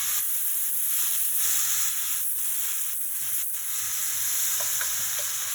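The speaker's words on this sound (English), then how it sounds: "I'll just squeeze it, lemon juice in there. And you hear that sizzle." Steady, bright sizzling of prawns frying in a hot pan with lemon juice, a continuous crackling hiss with no talking.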